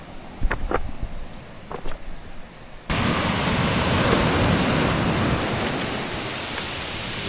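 Ocean surf breaking right beside the blue pool on Maui, a steady loud roar of crashing waves that fills the scene, with quieter rustling and a few brief sounds before the surge.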